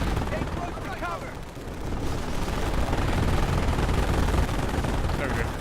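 Sustained gunfire from a World War II beach assault in the game Company of Heroes, with dense, continuous rattling bursts and rumbling booms at loud, steady intensity throughout.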